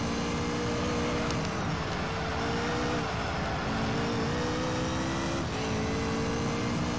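A race car engine in the video game Gran Turismo 3 drones steadily at high revs, with its pitch dipping and climbing through several gear changes and cornering, continuous and close.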